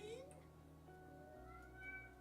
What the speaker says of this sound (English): Are you meowing too?